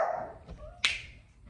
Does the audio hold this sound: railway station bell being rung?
no